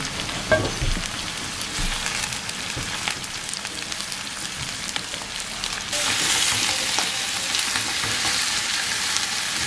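Pork sizzles and crackles loudly in a hot pan with onions, a steady frying hiss that grows brighter and more intense partway through, with occasional stirring clatter.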